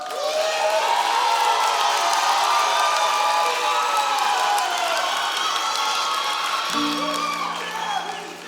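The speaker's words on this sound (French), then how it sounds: "Un tonnerre d'applaudissements." A concert crowd applauding and cheering, a dense, loud wash of clapping that holds steady and then eases slightly, with a faint tone entering near the end.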